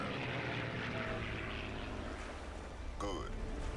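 A WWII propeller plane engine in the Iron Wings arcade flight combat game drones steadily throughout, a continuous low hum with a brief chirping sound near the end.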